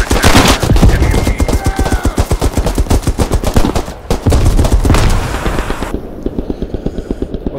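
Machine gun fire in the First World War shooter Beyond the Wire, a loud, close, rapid stream of shots hammering steadily for several seconds with brief pauses and slightly fainter bursts toward the end.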